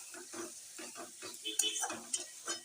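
Spice masala fries in a pan for an egg curry with fried eggs already added, and a spoon stirs in quick regular strokes over a soft sizzle, all fairly quiet.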